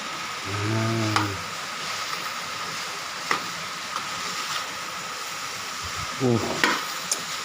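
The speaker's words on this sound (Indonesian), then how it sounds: "Diaduk sampai rata." Risoles filling stirred in a frying pan, a steady sizzle with occasional scraping clicks of the spoon against the pan, and brief voice-like tones near the start and end.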